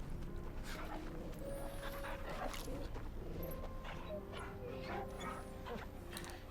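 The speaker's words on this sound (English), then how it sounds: "Happy puppy." A happy dog in Final Fantasy XVI yips and whimpers in short excited bursts, faint beneath game music and ambient effects, with a person talking nearby.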